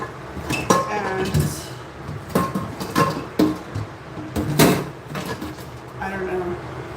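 Dishes, pots and pans clink and clatter close by in a busy rhythm while a person speaks over the washing-up.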